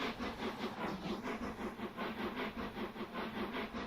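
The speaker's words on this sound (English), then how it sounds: "I think it's just a shunting train or something." A shunting train rumbles steadily with a broad hissing, pulsing roar that rises and falls in a regular rhythm, close and continuous, with no voices.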